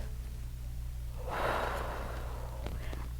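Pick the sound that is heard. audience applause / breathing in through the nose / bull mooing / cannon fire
breathing in through the nose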